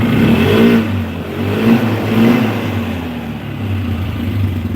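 A 2012 Polaris machine's engine runs steadily just after a carburetor change, a close, continuous mid-pitched drone with slight swells in revving throughout, no voices.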